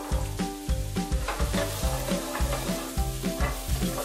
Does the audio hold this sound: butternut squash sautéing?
yes